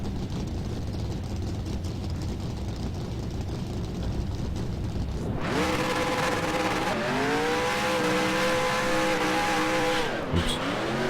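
Race car engines in the NR2003 racing video game, a low steady roar at first, then a loud rising whine of engines revving and holding pitch from about five seconds, with a brief dip near the end.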